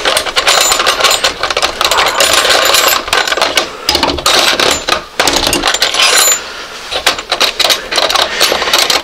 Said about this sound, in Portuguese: Tem aqui algumas chaves.